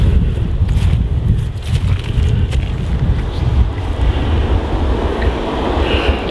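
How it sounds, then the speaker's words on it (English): Steady wind rushes across the microphone outdoors at a memorial site, a continuous low roar with gusty buffeting throughout and no voices. "It's a windy day anyway,"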